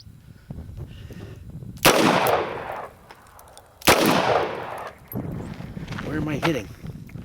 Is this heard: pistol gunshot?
yes